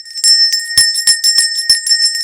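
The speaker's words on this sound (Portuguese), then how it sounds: "Eu falei que eu não ia tocar o sino, mas eu vou." A small bell rung repeatedly, bright ringing strikes in an irregular quick sequence, loud and close with sustained metallic tones between hits.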